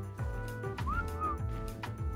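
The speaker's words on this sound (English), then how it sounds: "This guy's just whistling, I don't know what he's doing." A player character whistles in the video game ARK, a few short rising tonal notes over steady game ambience and low hum, fairly close and clear.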